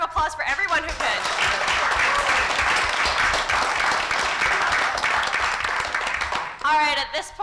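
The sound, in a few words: audience applause for pitch competitors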